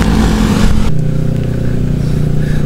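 A motorcycle engine drones loudly and close while riding a wet mountain road in light drizzle, with a rough rush of wind and road noise that drops abruptly to a steadier, lower hum partway through.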